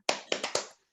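A classroom claps out the short PPK clapping routine, four sharp rhythmic claps in quick succession, close and loud, followed by silence.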